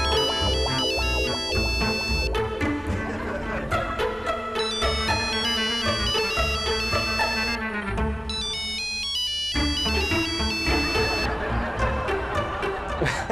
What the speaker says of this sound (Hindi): किसी का फोन आप कट कर रहे हो बार बार उठा लो